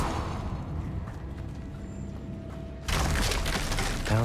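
A Confringo spell blast in Hogwarts Legacy bursts in abruptly near the end, a loud broadband crash with crackling debris after a stretch of quieter game ambience.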